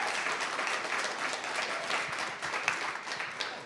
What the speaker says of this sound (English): If we can just have a round of applause for our panelists.